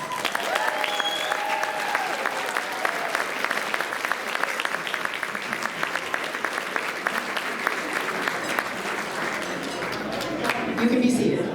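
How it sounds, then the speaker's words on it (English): A seated audience at a charity wine dinner breaks into steady, sustained applause honouring a volunteer and cancer survivor, dense clapping filling the room for the whole stretch with a few voices mixed in and a brief swell near the end. "All a round of applause"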